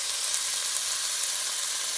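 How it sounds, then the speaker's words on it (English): Chopped onion sautés gently in a pot over low to medium heat for minestrone soup, giving a steady, even sizzle that runs unbroken with no talk over it. "you want this to just saute gently"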